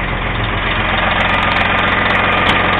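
A Kenworth W900L truck's diesel engine idles on a cold start, with a loud, steady, close rumble and a regular clattering knock and no voices.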